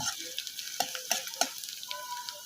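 Onion and garlic frying in a pan at home, with a soft continuous sizzle and a few sharp crackles and spatters standing out near the start and middle. No talking.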